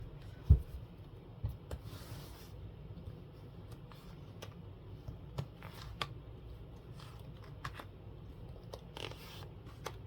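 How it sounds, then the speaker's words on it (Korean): Large oversized tarot cards are shuffled by hand in a quiet room, soft rhythmic riffling and rubbing with occasional sharper taps and a bump at the start, close and fairly faint, no talking. "열심히 한번 섞어 볼게요."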